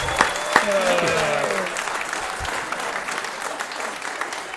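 A stand-up comedy crowd applauds after a joke, a burst of clapping that is loud at the start and gradually fades, with a voice speaking over the early part.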